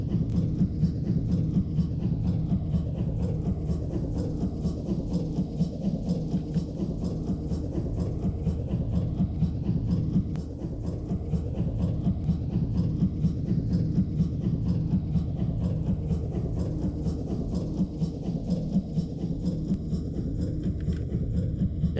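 A train rolls along steadily in a video game, a continuous low rumbling drone with a faint rhythmic clatter that holds at an even level throughout, with no other sounds over it.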